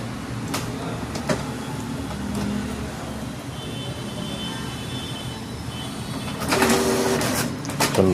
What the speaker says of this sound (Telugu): కలర్ ప్రింట్ కొట్టామో వస్తుంది.